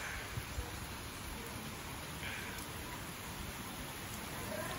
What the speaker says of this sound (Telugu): ఫుల్ వర్షం అయితే పడుతుంది